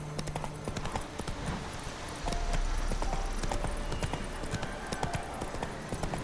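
Hooves clip-clop steadily as a horse gallops in The Witcher 3: Wild Hunt, with dense game ambience behind and a brief whinny-like tone.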